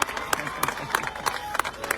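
A crowd at a political rally in Punjab claps in scattered, uneven bursts, a short stretch of applause heard close and fairly loud.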